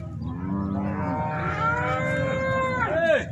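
A cow lows at a cattle fair in Águas Belas, Pernambuco, giving a long, close, loud moo that rises and then bends downward at the end, set against the busy murmur of the crowd.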